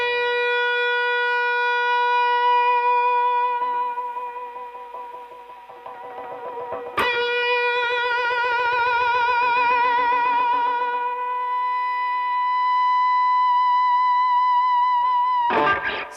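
An electric guitar played through an All Bender pedal with crunch and boost engaged holds a long, sustained distorted note close to feedback, humming steadily with a sharp attack midway and another near the end.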